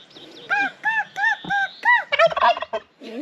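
Turkeys in a park gobble in a rapid series of loud, close, warbling calls, several birds overlapping in quick bursts, with a short honk-like note at the end.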